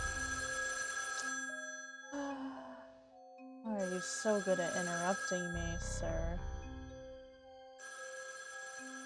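A telephone rings in the puzzle video game Shivers 2, with repeated electronic ringing bursts and tonal chimes separated by short gaps, while someone talks over part of it.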